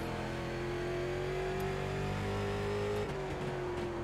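Late model race car engine in iRacing at Concord Speedway, a steady loud droning hum held close throughout, dipping briefly and shifting pitch as the driver lifts for braking into a turn.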